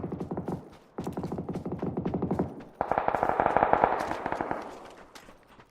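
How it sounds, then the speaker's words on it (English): An MP5K submachine gun fires in the battle royale video game PUBG, three long rapid-fire bursts of crisp, evenly spaced shots, close and loud, the last burst brighter and fading out. "It's like a MP5K that fires at like double rate."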